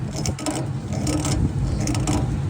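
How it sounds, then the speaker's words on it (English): A burr is worked off an A/C suction line fitting while nitrogen flows through the line, giving a close, continuous rough scraping and rasping with uneven strokes. "So what we're gonna do is flow some nitrogen and begin to break all this burr off here."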